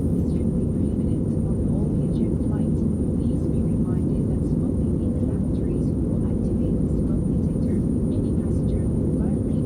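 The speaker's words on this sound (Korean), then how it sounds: "우리 비행기는 곧 이륙하겠습니다." Steady, loud airliner engine rumble inside the cabin while the plane waits before takeoff, a continuous low drone with faint voices and announcements underneath.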